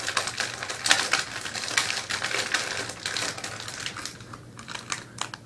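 Crinkly rustling of a Peeps marshmallow candy package as its flap is peeled back, in close, irregular bursts of crackling plastic and paper over a quiet background.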